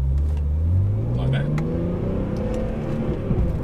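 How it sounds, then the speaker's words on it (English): A BMW M3 E46 pulls away, its engine note rising smoothly as it accelerates, close and fairly loud, with someone talking over it. "So now the car's a lot smoother at pulling away,"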